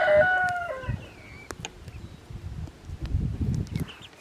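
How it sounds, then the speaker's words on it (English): Young chickens cluck and chirp close by, an opening burst of calls followed by quieter scattered clucks and rustling. "These are our little teenage chicks."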